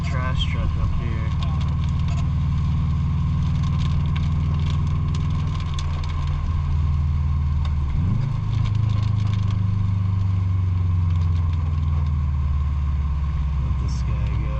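Garbage truck engine idling nearby as a low, steady rumble with a shifting drone, continuous throughout while someone talks over it.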